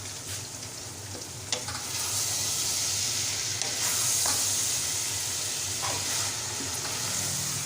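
Okra stirred into hot masala in a pan for bhindi pyaz, giving a steady close sizzle with scraping stir strokes and a few sharp clicks of the spoon against the pan.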